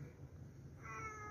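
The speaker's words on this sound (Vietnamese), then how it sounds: "Mèo." A cat gives one soft, short meow near the end of a quiet indoor moment, faint and close.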